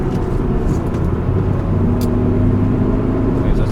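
Steady car engine and road rumble heard from inside a moving car, a low continuous drone with a slight rise in engine tone, no talking.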